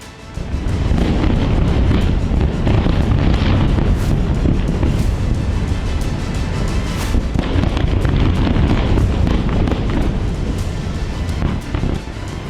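Explosion from an Israeli strike near Beirut airport, a sustained loud, rumbling blast with booming low-end roar and wind-like noise holding steady for the whole stretch, no voices.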